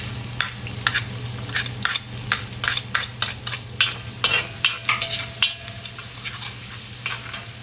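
Onion frying in a pan with butter for spaghetti, a steady sizzle under repeated scraping stirs of a utensil against the pan in a regular rhythm, close and fairly loud, with no talking.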